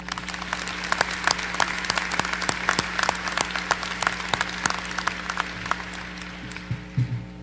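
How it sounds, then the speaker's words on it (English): A commencement ceremony audience claps for a keynote speaker in a sustained round of applause, dense and even, fading slightly toward the end. "Please join me in giving one more round of applause to our keynote speaker, Mr. Greg Arend."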